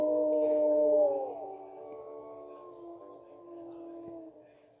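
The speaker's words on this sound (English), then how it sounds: "let's howl at the pups so they know that we're doing fine" A long, wavering wolf howl in the video game WolfQuest rises loud at first, then settles into a quieter sustained tone that trails off, with faint background ambience.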